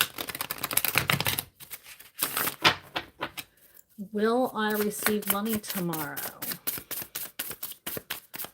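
Tarot cards being shuffled during a live card reading, a run of quick close papery riffles and taps in the opening seconds, followed by a person talking.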